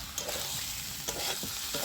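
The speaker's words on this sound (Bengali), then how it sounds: "এই আলু আর পটলটা দিয়ে আমি মিনিট 5-6 মতো কষে নেব" Potatoes and pointed gourd fry steadily in a pan for a vegetarian curry, a continuous close sizzle broken by a few soft stirring scrapes, with no voices.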